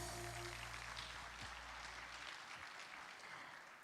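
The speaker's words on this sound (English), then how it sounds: "May I have a big round of applause for all of us?" Audience applause at the opening of a vaccine manufacturers' annual general meeting, a steady dense wash of clapping that stays even and faintly recorded throughout.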